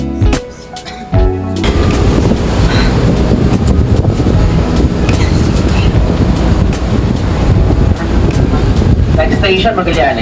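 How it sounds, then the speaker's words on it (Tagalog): An MRT train pulls in at Magallanes station in Manila, a loud, steady rumble and rush of rail noise with wind buffeting the microphone, close by and continuous. "So, ito na yung MRT."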